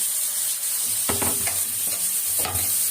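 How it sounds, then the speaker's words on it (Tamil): Ginger garlic paste and tomato sauté in a hot pan, a continuous bright sizzle broken by several scraping stirs of a spoon, close and steady with no talking. "இப்போ இந்த இஞ்சி பூண்டு பேஸ்ட் நல்லா வதங்கட்டும்."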